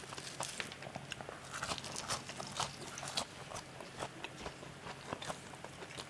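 Crispy, fresh, hot McDonald's fries being bitten and chewed close up, with a quick series of sharp crunches and crackles in an uneven rhythm.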